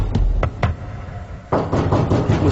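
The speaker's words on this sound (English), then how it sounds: "It was knocking sounds, tapping," Knocking in a paranormal reenactment: a few loud, hollow raps, followed by a denser run of knocks, heard up close.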